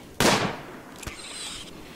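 A gunshot rings out in RimWorld during a wild boar hunt: one sharp, loud crack that decays quickly, followed by a fainter second pop about a second later.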